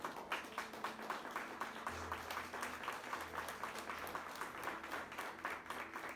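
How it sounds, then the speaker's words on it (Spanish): A church congregation at a Spanish-language sermon on the resurrection applauds together, a steady, dense patter of clapping held at an even level, somewhat distant, with a low hum underneath. "Dale ese aplauso al Rey"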